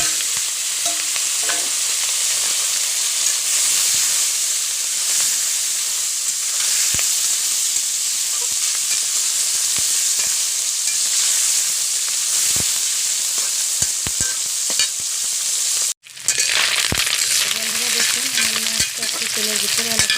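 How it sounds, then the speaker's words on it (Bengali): Fish coated in turmeric and salt fries in hot oil with cumin seeds, a loud continuous sizzle and hiss close up, broken briefly by a sharp gap and a flare of bubbling near the end. "তেলের ভিতরে ভালো করে ভেজে নিয়েছি"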